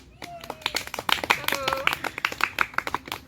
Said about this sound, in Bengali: হাততালি দিয়ে দাও